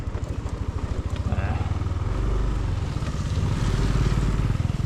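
A motorcycle rides slowly along a muddy, slippery dirt road toward Barangay Kabayunan, Bulacan, its engine putting out a steady low rumble with a rhythmic pulse that builds in the second half, wind noise over it.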